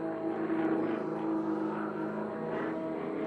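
A Sukhoi SU-31 aerobatic airplane pulls over the top of a maneuver during an Unlimited aerobatics competition, its engine droning steadily with a strong propeller hum, loud and continuous for the whole stretch.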